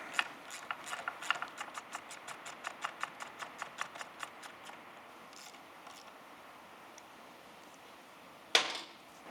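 A ratchet fitted with an 8mm socket tightens bolts on a Triumph Thruxton RS motorcycle, giving a steady run of about twenty crisp, close clicks that fade out, then a single sharp clack near the end.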